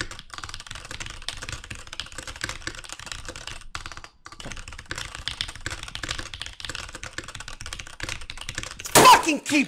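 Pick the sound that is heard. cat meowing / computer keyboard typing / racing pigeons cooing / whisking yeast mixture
computer keyboard typing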